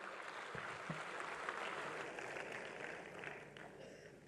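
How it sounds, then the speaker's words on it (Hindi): Quiet, steady applause from an audience at an official ceremony in Lucknow declaring a new regional meteorological centre, faint and somewhat distant, with a few louder claps and thuds near the start. "आपसे अनुग्रह की कृपया हम सभी का मार्ग प्रशस्त करें आप सबकी जोरदार तालियों के साथ"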